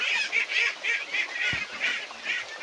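A flock of domestic ducks calls over and over in loud, nasal honks and quacks that swell and fade in a steady rhythm. The birds are farm ducks raised on organic feed mixed with azolla, and no one talks.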